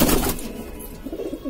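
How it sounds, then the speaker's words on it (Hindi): A white blue-tailed pigeon gives a short, low coo close by after a brief louder burst of noise. "ये भाई अपना सफेद नीलदुमा कबूतर"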